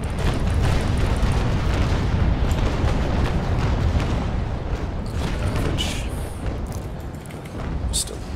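Cannon broadsides from a Bellona sailing warship in the naval combat game Naval Action roll together into a continuous, loud, rumbling barrage of booms that eases slightly toward the end.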